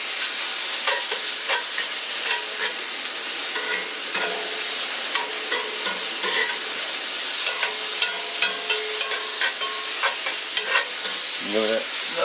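Pork and vegetables stir-fry in a cast iron pan, a bright, constant hissing sizzle with scattered crackles and spatula scrapes throughout, loud and close with no talking.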